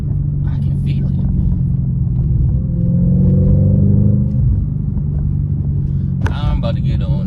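Low road rumble and engine drone inside a car driving on a city street, steady and fairly loud, with a brief clatter near the end and speech-like sounds mixed in.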